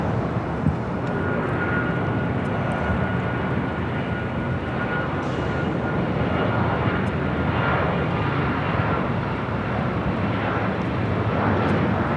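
United heavy jet airliner landing on runway 24 right at Los Angeles International Airport; a steady, loud broadband engine rumble fills the span without pause, with no talk over it.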